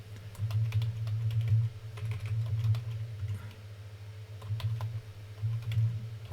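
A password is typed on a computer keyboard in a rapid run of light, close key clicks and taps over a low background hum.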